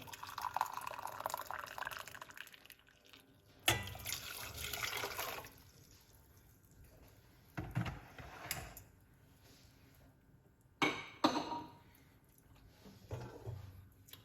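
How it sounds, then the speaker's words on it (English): Hot water poured from a kettle into a cup for a cinnamon weight-loss tea, several separate splashing, trickling bursts with quiet gaps between them, close and moderately loud, no talking over it. "Hot water."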